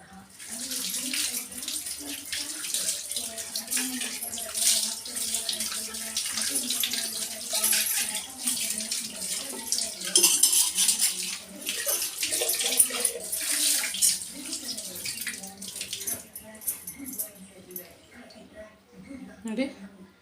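Brass puja utensils being scrubbed with tamarind and soap under running water, a steady splashing tap stream with rubbing throughout, close and fairly loud, while someone talks over it.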